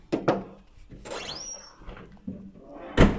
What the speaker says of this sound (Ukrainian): Скрипить трошки. Поскриплює.